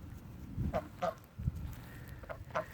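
Several short nasal honks and quacks from free-range ducks in a garden yard, spaced irregularly, over a low rumbling background at moderate distance.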